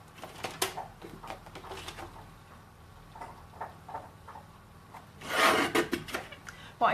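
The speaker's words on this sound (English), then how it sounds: "Please excuse the noise, it can be a little bit noisy when you're cutting." A paper trimmer slices through card with dry scraping rubs of the blade. A louder, longer cutting stroke comes near the end, with quiet pauses between the strokes.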